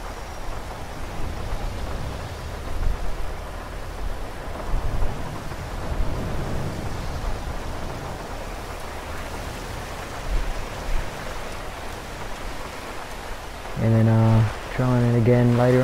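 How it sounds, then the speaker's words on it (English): Steady rainfall and low thunder rumble through an off-road drive in GTA 5, a broad wash of noise with brief louder swells, ending in a short burst of strong tonal engine-like drone. "Might even just wait it out, I reckon, till the rain stops."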